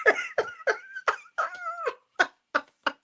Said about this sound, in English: Misty sounds fierce for a puppy